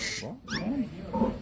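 A pig grunts and squeals in short, varied bursts close by, with rising and falling calls on a livestock farm and no talking.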